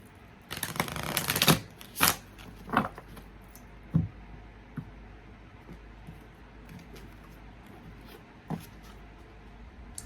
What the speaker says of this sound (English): me get one more shuffle.